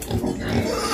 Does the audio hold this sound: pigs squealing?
yes